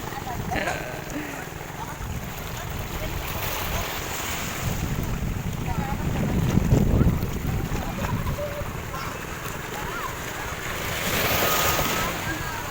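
Steady rush of sea surf at Pundaquit Beach, Zambales, with heavy wind buffeting the microphone, swelling louder midway and again near the end; no clear speech.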